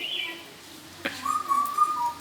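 An Indian cuckoo calls with clear, whistled tonal notes, a high note first and then a longer, lower, slightly wavering phrase. The call is fairly near and fills just over two seconds, with a soft thump partway through.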